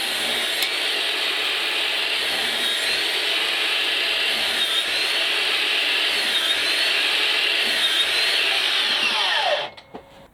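A Makita DLS111 36V cordless mitre saw fitted with a Diablo blade whines loudly and steadily through a cut, then spins down and stops abruptly, with no voices.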